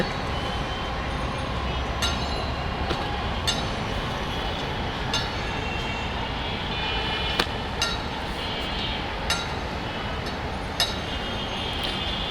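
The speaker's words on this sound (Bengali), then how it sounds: "আপনারা হয়তো দেখতে পাচ্ছেন আমাদের মেট্রো ট্রেন" A Dhaka metro train passes Karwan Bazar station on a foggy day. A steady rumble holds through the whole stretch, with sharp metallic clinks now and then.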